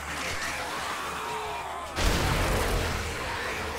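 A blunderbuss shot in the survival game 7 Days to Die lands as a single loud, close blast at about the two-second mark, rising out of a steady wash of broadband game noise.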